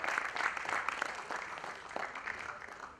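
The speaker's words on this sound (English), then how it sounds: "So a big round of applause for the task force members" A conference audience at a corporate HR anniversary event claps in steady, dense applause that stays fairly soft and distant for the whole stretch.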